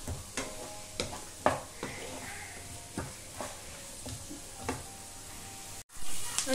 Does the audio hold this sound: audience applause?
no